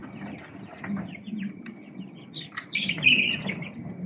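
Month-old Australorp chicks of a German line peep and chirp in a steady overlapping chorus, with some louder, clucking-like calls, under a low background rumble and no talk.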